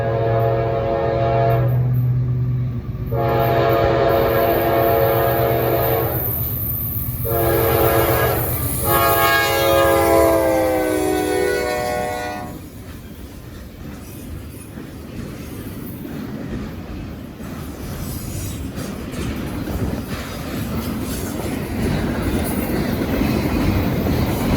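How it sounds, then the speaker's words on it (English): A northbound Norfolk Southern storage car train rounds a sharp super-elevated curve, its horn sounding in several long loud blasts over the first twelve seconds before steady rolling rumble and wheel noise carry on alone. "Okay, here we go. We got another train."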